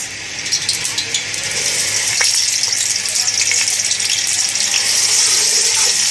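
Onions frying in ghee in a pot on the stove, a steady loud hiss and crackle of sizzling oil throughout, with no speech.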